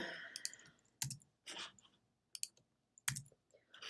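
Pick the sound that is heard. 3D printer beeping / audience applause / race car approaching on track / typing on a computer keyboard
typing on a computer keyboard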